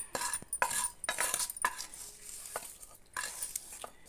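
Malabar spinach leaves stirred in a hot oiled pan with chillies, curry leaves and turmeric, giving soft sizzling under repeated scraping and clinking of a utensil against the pan in quick irregular strokes.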